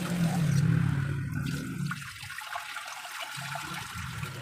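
String beans washed in a basin of water in a home kitchen, a close, steady run of splashing and trickling that grows quieter and thinner toward the end.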